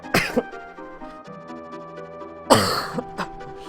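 Two bursts of harsh, wet coughing after inhaling saliva, a short sharp fit near the start and a longer, louder one later, with quiet breathing in between.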